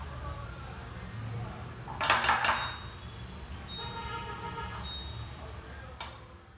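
A spatula works through thick, spicy biscuit dough in a bowl, giving soft muffled scraping with a brief burst of louder clattering knocks, while a person talks quietly.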